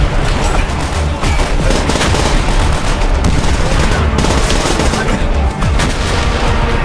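Sustained, loud gunfire from the Call of Duty: World at War battle mission Heart of the Reich, with rapid overlapping rifle and machine-gun bursts and thudding blasts filling the whole stretch.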